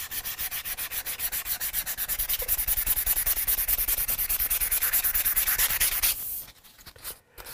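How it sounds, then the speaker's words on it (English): Sandpaper rubbed rapidly over the body of a Hofner Galaxie guitar during restoration, a loud, close, rhythmic scratching of quick even strokes that continues for about six seconds before stopping with a few faint handling noises. "One piece of sandpaper."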